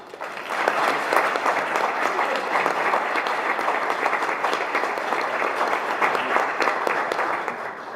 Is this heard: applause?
yes